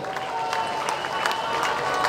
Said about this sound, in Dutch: Applaus voor u allen.